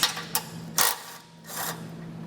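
A socket wrench ratchets on 18mm bolts holding a tow hook on a 2015 GMC Canyon, giving a few short bursts of clicking pawl teeth separated by brief pauses, close and moderately loud, with no talk.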